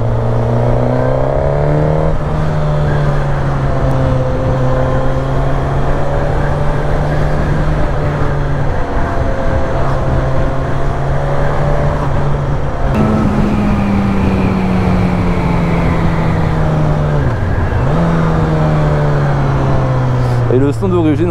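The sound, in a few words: Suzuki GSX-S950 four-cylinder motorcycle engine accelerating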